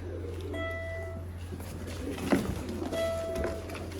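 Pigeons kept for sale in Sialkot cooing softly now and then, with faint chirps over a low steady hum and some quiet indoor noise.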